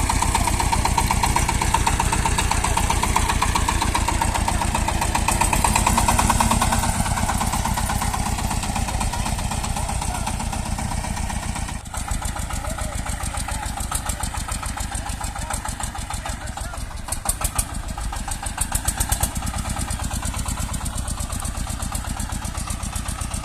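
Tractor engine running steadily while hauling a potato trailer through a field at harvest, a continuous loud diesel drone throughout with no one speaking.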